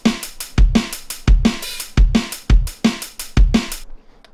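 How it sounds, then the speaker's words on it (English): A punchy drum loop with a heavy kick and bright snare hits repeating in a steady groove, loud and upfront, stopping abruptly near the end. "I've got a little drum loop right here"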